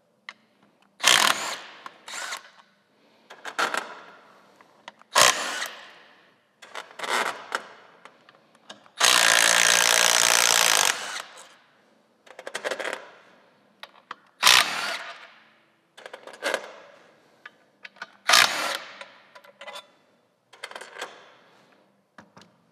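Power tool removing five bolts from the inner primary of a Harley-Davidson Low Rider ST, heard as repeated short whirring bursts with a longer steady run in the middle, close and fairly loud.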